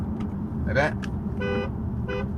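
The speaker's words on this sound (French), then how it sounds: "je klaxonne un petit peu de temps en temps" Two short car horn toots sound while driving on a road at night, set against a low steady engine and road rumble.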